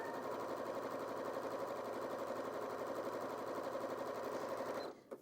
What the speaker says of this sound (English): the machine is sewing 3 stitches on the spot